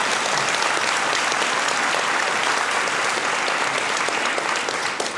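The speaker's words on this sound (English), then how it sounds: "Give Chris a round of applause" Sustained audience applause at a live panel session at a desert conference, dense and steady from start to finish with no speech over it.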